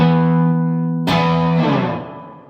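A Telecaster electric guitar on its treble pickup rings out a sustained chord, then is freshly strummed twice in quick succession, the bright, slightly distorted notes swelling loud and slowly fading.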